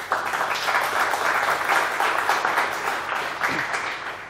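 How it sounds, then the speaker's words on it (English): Conference audience at Mojoconf 2014 applauding a sponsor, a steady wash of many hands clapping at moderate volume from the room, holding evenly for several seconds. "Please give them an applause."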